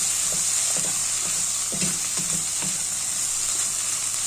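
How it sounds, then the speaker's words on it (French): A spoon stirs zucchini salad with chopped parsley and coriander in a bowl, making a string of soft, evenly spaced scrapes and knocks over a steady hiss, close and fairly quiet, with no talking. "Et je vais remuer."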